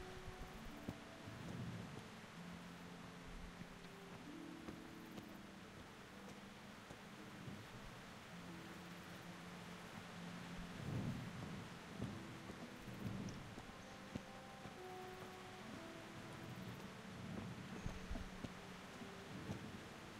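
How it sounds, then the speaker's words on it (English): Heavy rain pours steadily in Kingdom Come Deliverance, with low rumbles of thunder rolling through at intervals and a soft rustle beneath, at moderate volume with no voices. "guard duty in the pouring rain"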